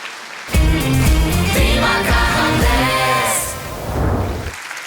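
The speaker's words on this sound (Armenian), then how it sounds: "Ծափահարություններ" An audience applauds on the stage of The Masked Singer Armenia, a loud burst of clapping and cheering that starts abruptly, holds for several seconds, then eases off.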